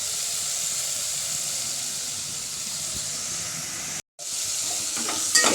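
Garlic, tomato, chili, curry leaves and onion temper in hot oil for khichdi, a steady close hissing sizzle that cuts out briefly and then returns.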